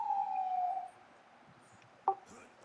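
An ambulance siren near a hospital sounds as a single steady wailing tone that slides slightly downward for under a second, then cuts off, followed by one short sharp chirp in otherwise quiet surroundings.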